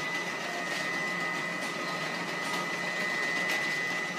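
The printer unit of a used Herma labeling machine runs with a steady mechanical whirr and faint high whine, broken by light periodic ticks, all at moderate level with no talk.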